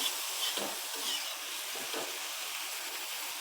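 A spicy Maharashtrian thecha of village green chillies and tomatoes fries in a pan on the stove, a steady soft hiss and sizzle with faint scrapes of stirring, close and moderately quiet, no voices.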